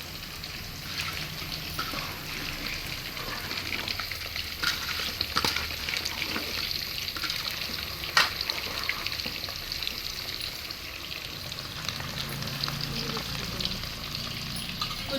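Chicken sautéing with ground masala in a large pan for a big batch of chicken gravy, with a loud, continuous sizzle, bubbling and occasional scraping stir strokes throughout.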